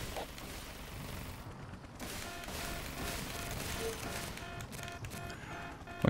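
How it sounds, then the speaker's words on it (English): A continuous artillery barrage in the toy-soldier war game Toy Soldiers Complete, with dense, overlapping booms and rumbling gunfire rolling on for several seconds at a steady, heavy level. "Another barrage, amazing."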